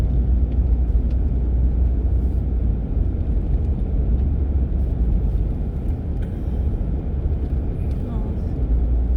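A car travelling along a winding hillside road on the way to work, with a steady loud low engine and road rumble running throughout, close and continuous.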